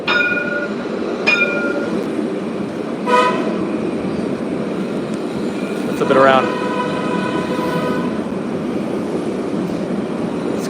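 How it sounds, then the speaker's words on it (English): Two trains passing each other in Jerusalem, with a rumbling rolling roar throughout and several tonal horn toots, one short and others longer and louder, close by; a person speaks briefly over the noise. "Here comes the trains, both of them."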